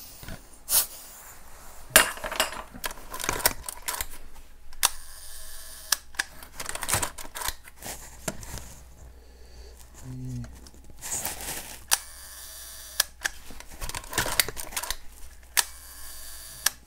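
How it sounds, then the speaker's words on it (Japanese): The shutter of an overhauled wide-angle Rolleiflex camera fires in a series of sharp mechanical clicks, with winding and ratcheting noises between shots, under a man's speech nearby. "シャッターですが、オーバーホールしてあるので当然快調に動いてます。"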